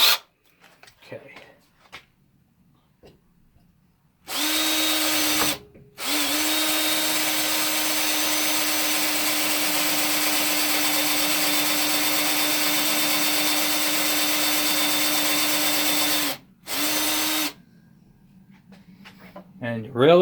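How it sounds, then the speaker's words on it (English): A power drill bores out a broken, stripped thread in a metal crankshaft, whirring steadily and loudly at close range for about ten seconds, briefly stopping once, with quiet moments before and after. "I have to redo my drill."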